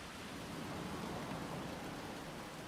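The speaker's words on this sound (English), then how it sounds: "Oh, is it raining?" Rain hisses steadily in a roller coaster park simulator game, an even, faint wash of falling drops with no voices over it.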